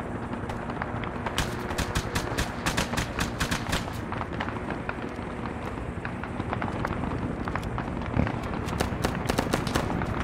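Heavy, continuous gunfire in the Vietnam-era shooter ARMA 3 S.O.G. Prairie Fire: dense rapid bursts and crackling shots stack up over a steady battle din, loud and close throughout with no pauses.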